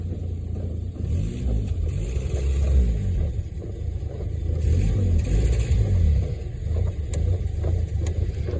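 Car engine with a patched hole in the exhaust pipe running steadily in heavy snow, a loud, close, continuous low rumble that swells slightly in places, with no voices.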